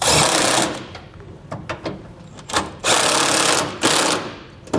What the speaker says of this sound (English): now we're just going to go back and tighten our hardware down